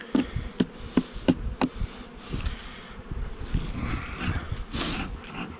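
Bees hum and buzz around a Langstroth beehive in a steady outdoor drone. Several sharp taps on the hive come near the start, and the buzzing continues throughout.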